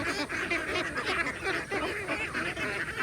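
Free-range ducks feeding eagerly, a dense flock giving continuous quacks and honking calls mixed with busy feeding noise, close and steady throughout.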